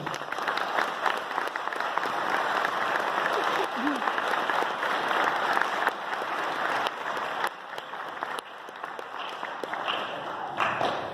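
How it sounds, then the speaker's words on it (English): Steady applause from a concert audience honoring student performers, dense and sustained with some voices in the crowd, gradually thinning toward the end into scattered claps. "can we give them a round of applause, please?"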